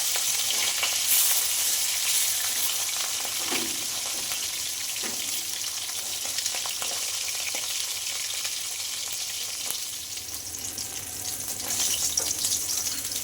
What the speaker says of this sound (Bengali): দেখো মাছগুলো সব ভেজে নিচ্ছি